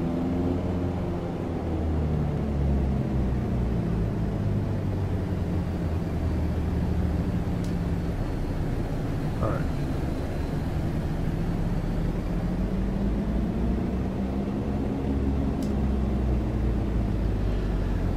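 A BN-2 Islander twin-engine plane in Microsoft Flight Simulator taxiing on a short runway, steady droning engine rumble with slowly shifting propeller tones, continuous and moderately loud, with no talk over it.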